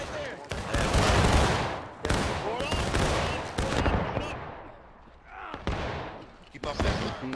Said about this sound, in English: Open fire to the left, gentlemen.